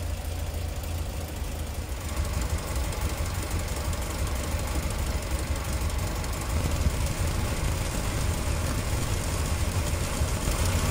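A car engine idles steadily with a low, even rumble and faint rhythmic knocking while warming up to test an electric cooling fan, continuous and unchanging, with no voices.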